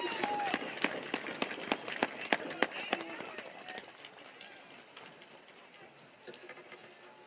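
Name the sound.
crowd applause at football game for special guest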